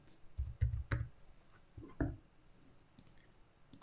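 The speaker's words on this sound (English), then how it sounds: "we can type in a message title" Typing on a phone app to enter a message title, a few scattered soft clicks and taps in a quiet room, closer bursts early then sparse faint taps.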